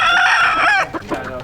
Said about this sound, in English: These are fighting roosters.